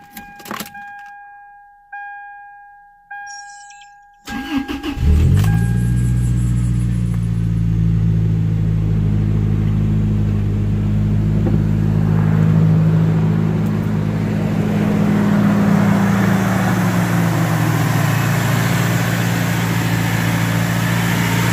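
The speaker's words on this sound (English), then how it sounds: "as soon as I start the engine" A Toyota Tacoma engine cranks and fires after a few seconds of warning chimes, catching with a brief surge and then settling into a steady, close idle that continues without talk to the end.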